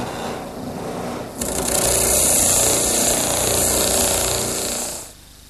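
A drum sander smooths a cut edge of wood for a coffee table frame, its motor whirring steadily before a louder, bright grinding sustains for several seconds as the piece is fed, then cuts off abruptly.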